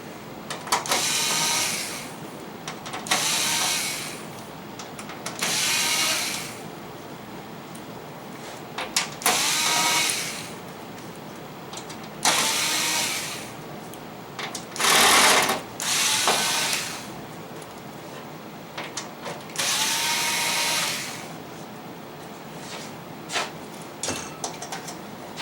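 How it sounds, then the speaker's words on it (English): Small Phillips screws are backed out of an Insignia 55-inch LED TV in a series of short, repeated whirring or clicking bursts separated by brief pauses, close and moderately loud. "let's remove our few little screws here. Number 1, Phillips."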